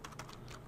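Quick, close keystrokes on a computer keyboard as a web address is typed, a short run of light clicks with no talk.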